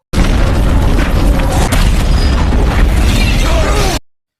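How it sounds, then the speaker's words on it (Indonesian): A car carrying a general explodes in an action film scene: a loud, dense, roaring blast that holds for about four seconds before cutting off abruptly. "Jenderal Morrison, mereka dikejutkan dengan mobil yang ditumpangi Jenderal meledak."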